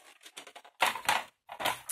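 Scissors cutting through paper for a handmade mini album, a few crisp snipping and crunching strokes close by, with a brief pause between bursts.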